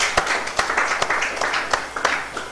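A small crowd claps at a live awards event, with a few sharp, distinct hand claps standing out over a thinner, scattered patter of applause.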